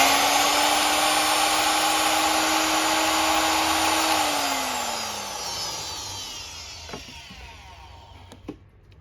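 A battery-powered cut-off saw, running off a lithium-ion backup battery, whining at a high, steady pitch, then spinning down as it's released, its tone sliding lower, followed by a couple of light clicks.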